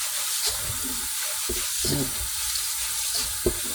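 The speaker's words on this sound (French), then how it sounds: "Je suis en train de laver. En même temps que de l'eau, ça coule." Tap water runs steadily while white rice is rinsed by hand in a bowl on a second wash, with soft splashing and stirring noises close by and no talking.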